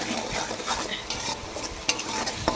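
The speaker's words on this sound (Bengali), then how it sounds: "এবার সবগুলোকে একসাথে ভালো করে কষিয়ে নেব সুন্দর করে" Masala of turmeric, chili powder, cumin and salt stir-fried in a pan, a steady close sizzle broken by scraping spatula strokes, with no voices.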